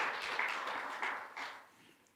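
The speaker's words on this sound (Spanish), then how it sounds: "Dale un aplauso al Señor, por favor" A church congregation applauds in a short burst of clapping at a Spanish-language service, moderately loud at first and then fading out quickly.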